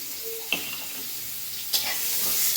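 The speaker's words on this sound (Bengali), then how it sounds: "সুন্দর করে পেঁয়াজটা একটু হালকা করে ভেজে দেবো, খুব বেশি ভাজবো না, হালকা করে ভাজবো" Chopped onion lightly frying in a pan, a faint steady sizzle with a couple of brief clinks or stirring taps, close and quiet with no voices.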